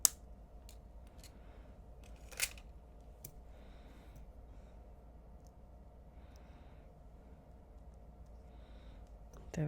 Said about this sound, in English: So then snip off the wire about,